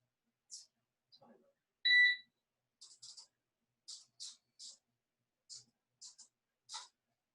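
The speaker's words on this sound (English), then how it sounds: "Set the timer." Kitchen timer being set while chicken cooks, a sparse run of quiet dry clicks from turning the dial with one short bright beep near the start, heard alone without talk.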